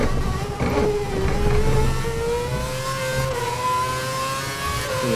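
Formula One car engine in the F1 2011 racing game, a steady high-pitched whine climbing through the revs with gear changes, continuous and loud with no talk.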